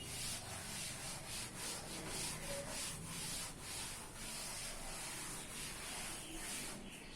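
Steady scratchy rubbing of a duster across a classroom board, continuous back-and-forth strokes close by with no talking.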